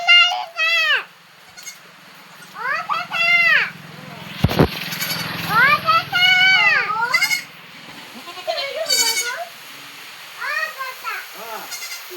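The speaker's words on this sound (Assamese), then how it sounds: "কিউট কিউট ছাগলী" Several high, wavering goat bleats come in bursts across the clip, close by, with children's voices and a sharp knock partway through.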